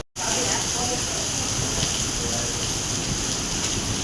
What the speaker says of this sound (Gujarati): વાવાઝોડાનો માહોલ અત્યારે ફૂલ થઈ ગયો છે મિત્રો